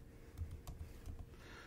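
Soft, quick keystrokes on a computer keyboard while searching the AWS console, a short, faint burst of typing alone.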